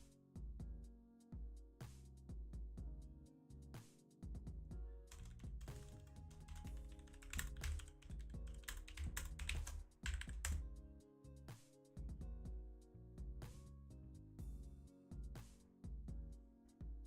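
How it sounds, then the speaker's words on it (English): Computer keyboard typing during a coworking stream, rapid irregular clacks and taps in bursts with short pauses, close and fairly quiet. "can you guys like hear the keyboard?"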